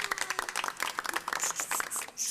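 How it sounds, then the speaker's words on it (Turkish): Scattered clapping from a small group cheering a girl's success at school, uneven bursts of hand claps with some brighter accents and a few voices underneath. "Bravo alkış."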